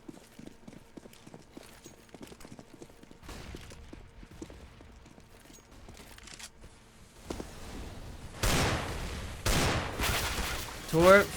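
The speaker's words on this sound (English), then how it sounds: "Tor firing through smoke. He's also getting fired at through smoke" Gunfire exchanged through a smoke grenade on the Cache map during a competitive Counter-Strike match, rapid bursts of shots growing louder and denser toward the end, with crackling game ambience underneath.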